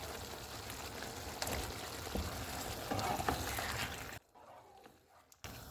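Capsicum stirred into a pan of chicken filling thickened with yakhni stock, giving a steady close sizzle with stirring scrapes that quietens briefly near the end.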